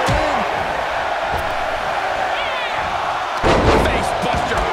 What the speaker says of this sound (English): Face buster plants it.